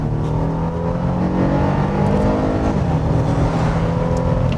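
A Honda Pilot SUV with a 3.5-litre gasoline engine pulls hard at high revs, a loud, steady engine drone heard from inside, with the pitch slowly rising and shifting and no talking.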